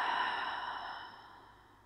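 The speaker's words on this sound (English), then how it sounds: "taking that long, slow inhale and long, slow exhale" A long, slow breath out, close and soft, fading gradually over about two seconds during a restorative yoga session.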